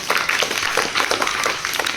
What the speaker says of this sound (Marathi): त्यांच्यासाठी एकदा जोरदार टाळ्या वाजल्या पाहिजे